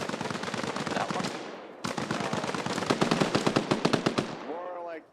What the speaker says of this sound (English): What the hell was that huge ass gun I heard firing?